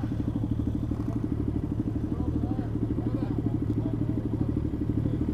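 Motorcycle engines idle and rumble around a busy Benelli group ride day, a steady low throbbing pulse from nearby bikes running continuously, with faint voices in the background.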